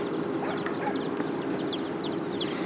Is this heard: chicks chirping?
yes